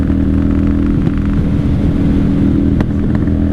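A 1995 Honda Shadow VLX 600 (VT600CD) motorcycle engine runs loud and close while riding, a steady low drone with a few sharp pops breaking through toward the end.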